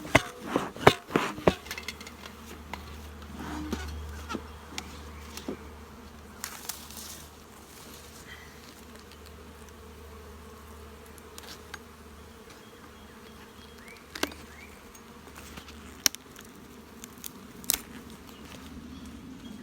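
Honeybees in an opened beehive produce a constant low buzzing that hums on steadily for the whole stretch. Occasional sharp taps and clicks from handling the hive stand out against it.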